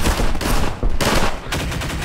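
Dense, rapid gunfire in the video game Half-Life 2, loud overlapping bursts of shots packed tightly together across a couple of seconds with no speech.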